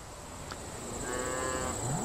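Red Angus cattle moo at a fall calving, a long low sustained call rising near the end, fairly close over steady outdoor ambience with no talking.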